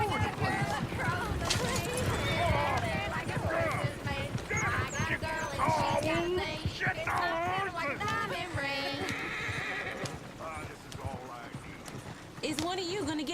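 Horse hooves clip-clop in the Red Dead Redemption video game, rhythmic clattering steps mixed with a neigh amid a busy western town scene, with voices talking over the steady hoofbeats.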